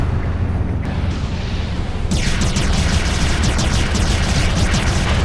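A destroyed target blows up in the space combat game Star Citizen's Arena Commander, a loud, dense roaring blast that swells in brightness partway through and keeps rumbling throughout.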